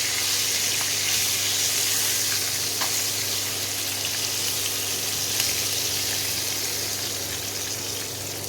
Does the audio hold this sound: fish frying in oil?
yes